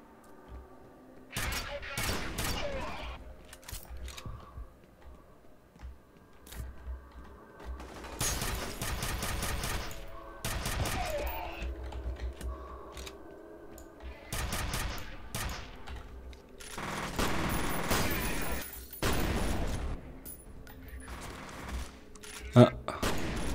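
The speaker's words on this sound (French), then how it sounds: "C'est un fusil à clous en fait que j'ai ou quoi?" Nail gun firing in the shooter game F.E.A.R., rapid bursts of repeated mechanical shots in several clusters with other game noises between, moderately loud, and someone talks at points.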